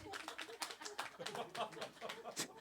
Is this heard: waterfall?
no